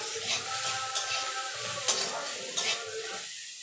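Pointed gourd peel paste with salt and turmeric is stirred and fried in a pan, giving a continuous close sizzle broken by a few sharp scrapes of the spoon against the metal.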